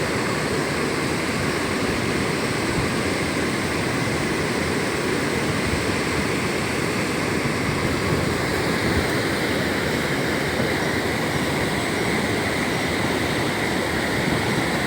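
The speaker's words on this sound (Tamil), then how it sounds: "2 ஷட்டர் வழி தான் தண்ணி போயிட்டுருக்கு." Water pours steadily through two open sluice shutters of Vaduvur lake at the head of the Kannanaru channel, a loud, continuous broadband rush with no voices.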